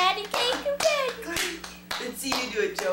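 Hands clap in a patty cake game with a small child, several sharp claps in an uneven rhythm, close and loud, mixed with voices talking and coaxing between them.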